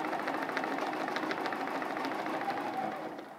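A sewing machine fitted with a walking foot stitches a straight line across a pinwheel quilt block, giving a rapid, even mechanical chatter that runs steadily and fades slightly at the end, with no talking.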